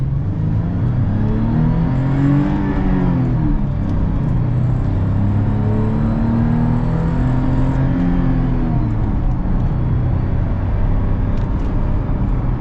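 A Toyota FJ Cruiser SUV accelerates hard, its engine droning loud and close with rising and falling rumbling tones as it pulls through the revs, steady throughout with no talk.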